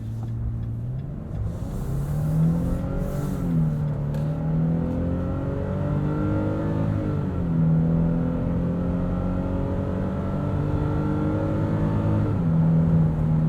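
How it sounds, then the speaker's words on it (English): A 2022 Nissan Frontier PRO-4X pickup with a 9-speed transmission accelerates onto a highway, its engine note climbing steadily, then dropping at smooth shifts, heard from inside the cab over road rumble. "hopefully we can get a good pull merging onto the highway here"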